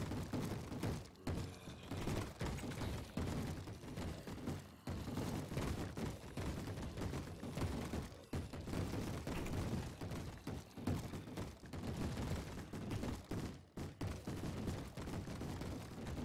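Video-game mobs bang on a door in a dense, relentless barrage of overlapping thuds and crashes that carries on throughout, loud and close, with no talking over it.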